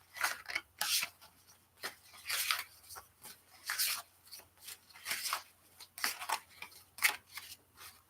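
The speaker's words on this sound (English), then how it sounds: "I'm just going to shuffle my deck and I'm going to pull a card for Tammy" A tarot card deck being shuffled by hand, giving a series of close, crisp papery riffles and slides in irregular bursts, with no talking.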